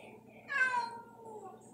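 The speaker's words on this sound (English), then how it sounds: "My kitty wants to go." A house cat gives one drawn-out meow that rises and then falls, fairly close and clear over a low, steady indoor hum.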